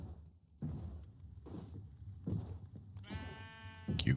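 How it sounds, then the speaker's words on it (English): A sheep in the Minecraft video game bleats several times in short, evenly spaced calls, with a couple of game sound effects near the end and no talk. "Here you go. 1 sheep fresh from the fields of lilacs."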